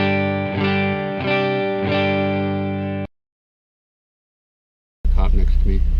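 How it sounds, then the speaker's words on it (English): A G&L Fullerton Deluxe ASAT Classic electric guitar plays three strummed chords with effects, loud and ringing. Silence follows, then a different loud, noisy passage. "a quick look at the G&L Fullerton Deluxe ASAT Classic"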